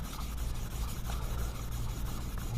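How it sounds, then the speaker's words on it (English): Sandpaper rubbing steadily across a steel wheel spindle damaged by an overheated wheel bearing, smoothing it so a new bearing can slip on. The scratchy sanding is close and continuous, with a quick back-and-forth rhythm and no talking. "I'm taking sandpaper."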